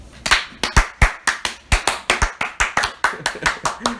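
Two people give a steady, slow clap together, imitating an audience's applause. About fifteen sharp, evenly spaced claps ring out close by for four seconds.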